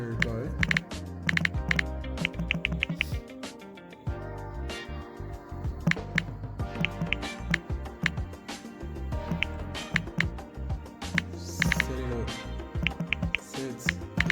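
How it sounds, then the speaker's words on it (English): Rapid clicking keystrokes on a computer keyboard come in quick bursts with short pauses, close and crisp, over a steady musical bed. "Exactly how I'm typing it here, you're going to have to type it like that on your phone."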